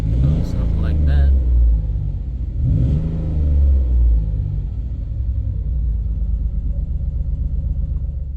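A Hyundai Tiburon engine, still cold, idles with a heavy rumble and is revved twice, the pitch swelling up and falling back each time, loud and close.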